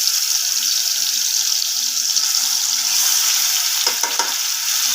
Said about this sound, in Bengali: তেল গরম হয়ে গেছে পেঁয়াজ বাটাটা আমি এর মধ্যে দিয়ে দেবো